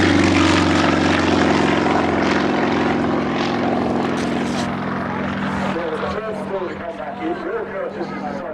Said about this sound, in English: Taxiing out, just get airborne.